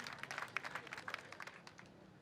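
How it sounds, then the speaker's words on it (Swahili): A small crowd outdoors at a cleanup exercise launch in Kajiado claps in scattered, uneven bursts, faint and distant, tapering off toward the end. "Rembo Shato tuwapigie makofi."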